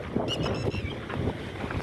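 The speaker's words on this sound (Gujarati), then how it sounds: "આપણે છે ને અત્યારે જો આ મોટર ચાલુ કરી છે" Farm water pump motor running outdoors, a steady near droning hum with faint tonal whine early on, mixed with gusty wind noise throughout.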